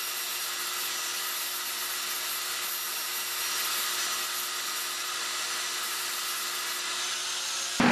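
A steady, loud abrasive grinding as a weld on a part of an antique carnival ride is smoothed down, continuous and close for the whole stretch with no talk.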